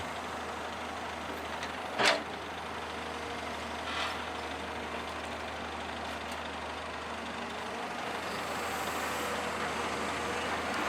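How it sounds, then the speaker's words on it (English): A tractor working at a brick factory, rolling in to take on a load of clay for transport, gives a steady, fairly distant engine drone with a brief sharp knock partway through. "the tractor rolls in to receive the clay and load it up for transport"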